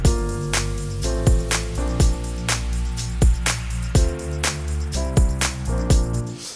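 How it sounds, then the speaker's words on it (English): A Hoover bass synth programmed in FL Studio plays a loud, thick, continuous bass line with a steady rhythm of sharp percussive hits running alongside it, no voices present. "It's kind of the Hoover bass that I use a lot."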